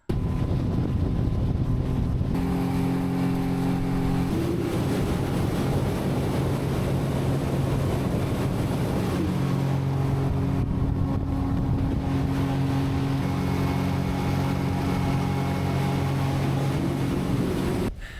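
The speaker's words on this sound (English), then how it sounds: "right now the boat just drove us off on this little sandbar" A motorboat engine hums steadily on a lagoon at Aitutaki, Cook Islands, with low droning tones that shift in pitch partway through, over constant wind and water noise, with no talking.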